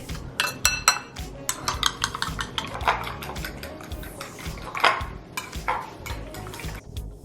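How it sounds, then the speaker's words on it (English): Eggs with salt whisked in a bowl for kaya French toast, a rapid irregular clatter and scrape of utensil against the dish, steady and close throughout. "Here, Kirsten, whisk it."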